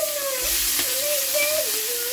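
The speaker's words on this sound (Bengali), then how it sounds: "এটা আস্তে আস্তে আমি ভেজে নেব" Chopped vegetables and sliced mushrooms, seasoned with salt and turmeric, frying in hot oil in a pan, giving a steady close sizzle throughout with a faint tonal hum running underneath.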